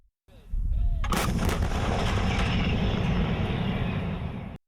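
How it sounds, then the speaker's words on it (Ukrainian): A 152 mm Hyacinth self-propelled artillery gun fires with a sharp, powerful blast, followed by a long rumbling roar and echo that slowly fades. "боги війни відкрили вогонь із 152 мм гармат гіацинт"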